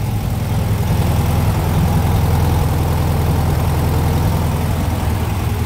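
An engine fitted with a new reproduction carburettor runs at a steady idle, a continuous low rumble with a fine, even pulsing that stays constant and close throughout, with no voices.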